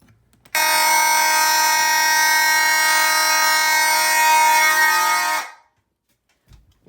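An old fire alarm system's mechanical horns blare in one loud, steady, buzzing tone for about five seconds, close and alone, then cut off abruptly into near silence.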